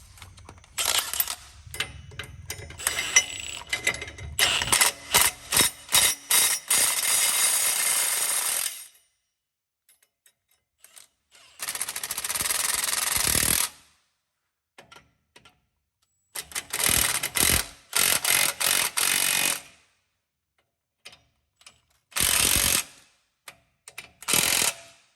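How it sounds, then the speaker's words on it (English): A ratchet tightens a 9/16 nut on a truck air bag on a 2010 Dodge 2500 6.7 Cummins, with close, rapid clicking bursts broken by silent gaps and several short, separate runs of ratcheting. "you'll hit it with a 9/16 and tighten it on up"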